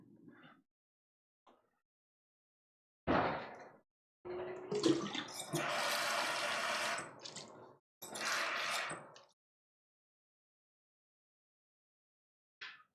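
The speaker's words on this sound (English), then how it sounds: "Let me pour this drink out right quick." Liquid splashes into a bathroom sink in a few separate bursts, a longer pour in the middle and a shorter one after, with near silence between them.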